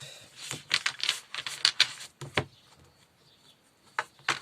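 Oracle cards being shuffled by hand during a love-guidance reading, heard as a rapid series of soft papery flicks and riffles in bursts, fairly close, then a brief pause before a few more flicks, with no talking.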